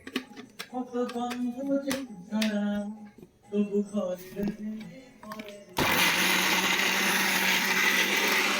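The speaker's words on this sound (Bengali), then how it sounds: "মিক্সারে চাপিয়ে দিলাম কিছু" A kitchen mixer grinder starts up, probably grinding poppy seeds and onions, a loud steady broadband whirr that begins partway through and runs to the end, after a stretch of people talking.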